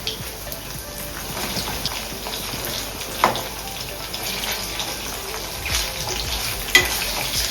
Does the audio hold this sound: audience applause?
no